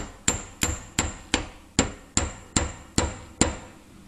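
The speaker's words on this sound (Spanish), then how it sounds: "con ayuda del martillo daremos el último toque a la varilla." Nine evenly spaced, sharp metallic hammer taps on a metal rod being driven into a homemade tool for removing a washing machine drum spider, each ringing briefly before decaying, close and alone.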